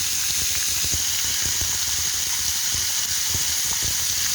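Chicken steaks sizzle steadily in a pan over a low-to-medium flame, a continuous bright frying hiss with faint crackles and pops throughout, close and even, with no talking.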